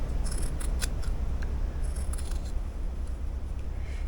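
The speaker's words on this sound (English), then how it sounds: "Just cut the seam off." Scissors snip through the seam of a sweatshirt cuff in a few quiet, close crisp cuts over a low, steady room rumble.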